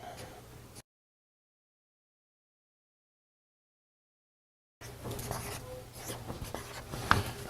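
A pen or pencil scratches notes onto paper in two brief, quiet stretches separated by several seconds of silence. The scratching is close and soft, and no one talks.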